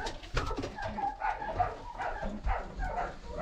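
Pigeons in a pigeon loft, low throaty cooing and burbling from several birds close by, in overlapping bursts.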